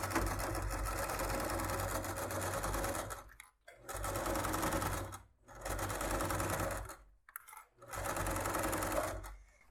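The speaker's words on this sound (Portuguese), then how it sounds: "E agora eu vou fazer a costura daqui até aqui." A sewing machine stitching a fabric makeup bag runs in loud, steady bursts of rapid whirring, stopping briefly three times between runs, with no talk over it.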